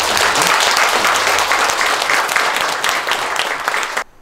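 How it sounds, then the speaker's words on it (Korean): Loud, dense applause from an audience at a Buddhist temple meditation center opening ceremony, sustained for about four seconds before cutting off abruptly. "여러분 큰 박수 부탁드리겠습니다."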